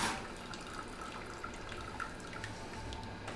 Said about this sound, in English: You get a little bit more dripping, but not much